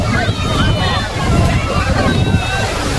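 Sea waves wash and slosh loudly at Digha beach, close by, with strong wind buffeting the microphone and a constant roar of surf filling the scene.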